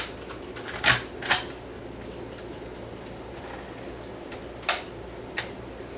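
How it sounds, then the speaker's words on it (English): A Canon ES600 camcorder takes a tape with a few sharp mechanical clicks and clacks, two close together early on and two more a few seconds later, near and moderately loud with nothing else in between. "I'll just put the other tape in."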